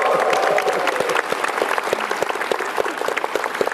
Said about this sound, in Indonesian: Sekali lagi tepuk tangan buat Pak Ahok dan Soleh Solihun.